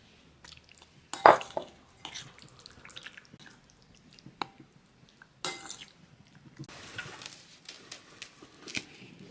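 Wet splashing and dripping as marinade is poured over chicken breast for sugar-free Kung Pao chicken, with irregular squishy bursts, light clinks of a dish and utensil, and quiet pauses between.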